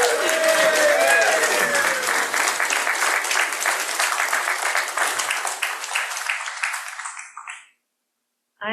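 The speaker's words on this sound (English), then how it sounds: "Let's give her another round of applause." A sustained round of applause from an audience at a church-style gathering, dense and loud clapping that gradually thins and fades out before a brief pause and a sudden new sound at the very end.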